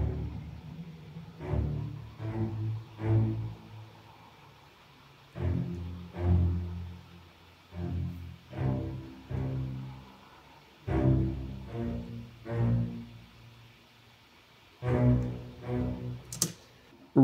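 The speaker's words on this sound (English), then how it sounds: "It is from Symphobia, the bombastic basses." Orchestral bass patch from the Symphobia bombastic basses sample library: a string of rhythmic, swelling low string notes with marked dynamic accents, moderately quiet and close, with no talking.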